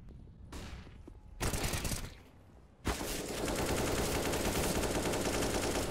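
Gunfire in Counter-Strike: Global Offensive, with a few sharp shots followed by a loud, sustained burst of rapid fire that fills the second half, with no voices.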